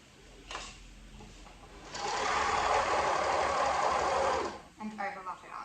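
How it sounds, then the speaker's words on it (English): An overlocker stitches fabric for a baby romper, a rapid whirring motor run of about three seconds after a couple of short starts, close and loud, with a person speaking around it. "if I slide it under my overlocker, get a couple of stitches going"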